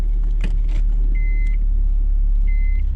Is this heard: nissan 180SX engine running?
yes